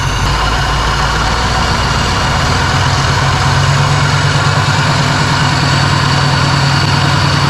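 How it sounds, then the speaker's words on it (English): A small-block Chevy 350 V8 running at a raised fast idle, a loud, steady low rumble close by that continues evenly throughout without talking. "I'm gonna bring the idle up and just let it run fast for a little while"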